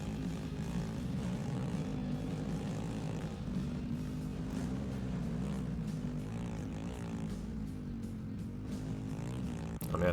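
A droning ATV engine in the racing video game ATV Offroad Fury 4 runs continuously at a steady, fairly loud level with slight pitch wobbles, with no talk over it.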